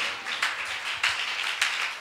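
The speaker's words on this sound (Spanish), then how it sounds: "Den un aplauso fuerte al Rey" A church congregation claps together in praise, a dense ongoing applause with several louder swells, close and fairly loud, with no talking over it.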